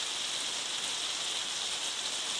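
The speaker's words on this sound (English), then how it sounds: "The rain is pouring down." Heavy rain pours down on a wet day in a steady, dense, loud hiss with no pauses and no voices.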